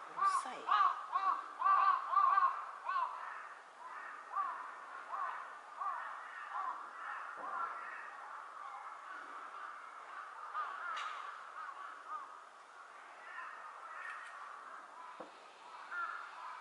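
Crows cawing near Otaru, Hokkaido, Japan, a burst of repeated harsh caws at the start, then fainter scattered calls over a steady background with voices talking.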